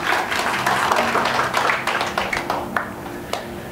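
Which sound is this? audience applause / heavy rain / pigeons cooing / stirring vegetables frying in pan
audience applause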